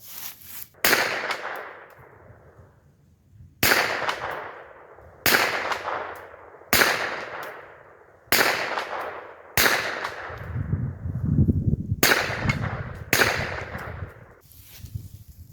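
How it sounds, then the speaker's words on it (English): Sharp rifle shots at an outdoor range, roughly eight spaced blasts each trailing off in a short echo, with a bullet hitting a steel target at about 90 yards after each shot; a low rumble swells near the end. "When I hit, you'll hear a tick, tick, tick sound when the bullet hits the steel"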